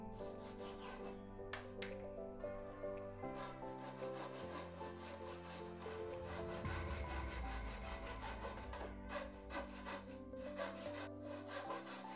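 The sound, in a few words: notching wooden rafters with Japanese saw and wood chisel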